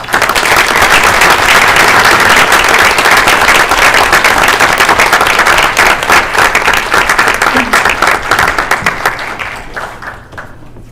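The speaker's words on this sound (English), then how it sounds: "if we can give them a round of applause" Loud, close applause from the audience at a school board meeting, a dense burst of many hands clapping that holds steady and then thins out and fades at the end.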